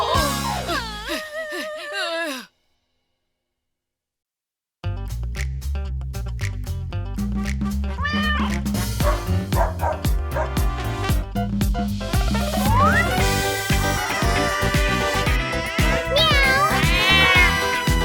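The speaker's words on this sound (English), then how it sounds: "Baby cat, meow meow meow meow meow." Cartoon cat meowing in an animal nursery song, a sung, musical meow rhythm over steady backing music, with a brief silent gap near the start before the song resumes loud and continuous.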